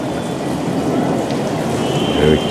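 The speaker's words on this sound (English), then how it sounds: "we can see quite a bit of water dripping out through there" Steady, close water dripping and trickling patters continuously inside a stone step-well in Jodhpur, India, with a faint hollow wash behind it.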